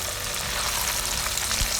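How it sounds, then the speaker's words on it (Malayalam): Sardines sizzle and crackle steadily as they fry in a pan for a Kerala-style fish pickle, a close, continuous hiss with no talking. "ബാക്കിയുള്ള മീനും കൂടി ഇട്ട് വറുത്തെടുക്കുന്നുണ്ട്."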